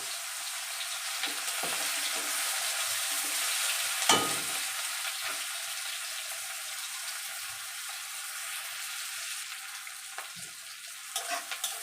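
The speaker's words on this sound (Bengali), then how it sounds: "পেঁয়াজগুলোকে আমি লাল লাল করে ভেজে নেব।" Onion pieces frying in hot oil with black cumin, a dense and continuous bright sizzle heard close up, with occasional soft knocks and scrapes from stirring.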